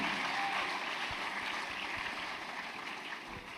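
Applause from an audience at a tech fair, a dense steady wash of clapping that holds loud and constant throughout, slowly easing slightly toward the end.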